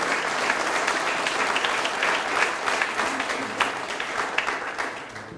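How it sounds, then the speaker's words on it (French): An audience claps at a New Year's greetings ceremony in a French town hall, loud, dense and sustained for the whole stretch with a few sharper individual claps. "On peut tous vraiment les applaudir très fort."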